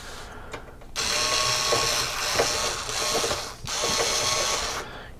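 Screws driven in with a screwdriver during a Christmas-related fix, giving a steady ratcheting mechanical whir in a few bursts with short pauses between, close and fairly loud, with no talking.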